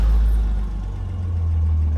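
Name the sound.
1969 Jaguar XKE 4.2L engine starting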